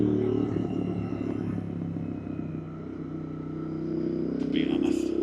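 A Royal Enfield Classic 350 motorcycle's single-cylinder engine rumbles close up as it downshifts, the note dipping then rising again, with faint voices and road noise around it.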